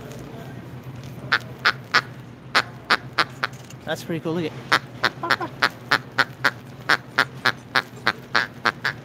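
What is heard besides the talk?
squeezed toy duck quacking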